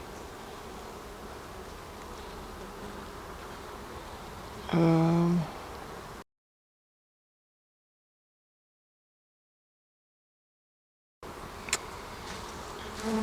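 Honeybees buzz around a hive during an inspection, a steady close drone with one louder bee passing near the middle. Sound drops out entirely for several seconds, then the humming resumes with a few sharp knocks.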